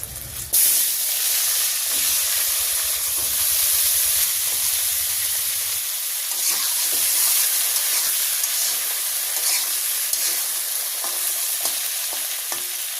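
Vegetables tipped into hot oil with bay leaf sizzle and fry steadily in a village kitchen, a loud, continuous hiss with occasional stirring scrapes and no talk.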